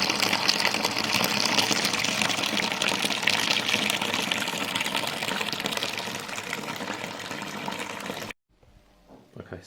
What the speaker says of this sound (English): just turn the tap on my bucket and let it drop in from a little pipe. You can see it aerates the wort lovely.